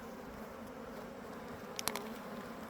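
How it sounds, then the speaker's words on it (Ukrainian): A crowded honeybee hive, packed with bees and short of space, hums in a steady, dense drone in the evening at about 15°C. The drone is close and even throughout, with a brief louder flutter near the end and no talking. "Дивіться, скільки бджоли. Їм тут місця катастрофічно просто мало."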